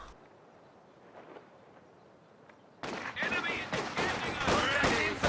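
Video-game gunfire erupts after a quiet lead-in, a loud burst of rapid, overlapping shots with sharp cracks continuing to the end, while someone talks over the battle.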